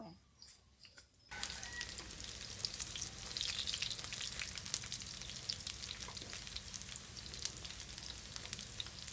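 Vegetarian ribs fry crispy in a pan: after a quiet moment a steady, fairly soft sizzle starts and continues with scattered crackles and pops.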